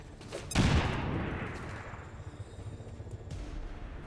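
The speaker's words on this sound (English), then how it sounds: "Throw a grenade. Maybe that does it." A grenade bursts in the Spectrum Green tactical game: one sudden loud blast, then a long rumbling decay that fades under quieter background noise.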